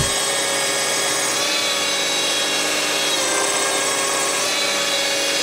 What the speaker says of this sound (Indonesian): di sini kita akan coba bor